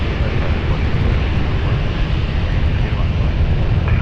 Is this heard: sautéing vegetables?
no